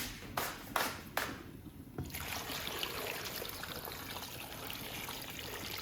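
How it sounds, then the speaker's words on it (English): A few clunks, then a steady stream of water pours and splashes continuously into a cooking pot, close up, with no talking. "And we'll put in some water"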